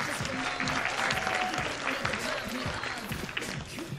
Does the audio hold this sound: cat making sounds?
no